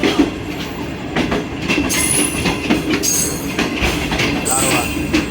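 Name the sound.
Sialkot Express train overtaking the rail car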